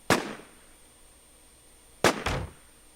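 Gunshots in a shooter video game, with one sharp crack followed after a pause by two quick shots in succession, loud and punchy against a quiet background.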